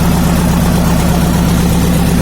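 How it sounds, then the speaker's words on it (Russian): Cold diesel engine of a 1992 Nissan Condor H41 truck with an FD engine and mechanical injection pump, idling steadily on its first start, a loud, even low rumble with regular pulsing and no other sounds. "Двигатель работает без посторонних звуков."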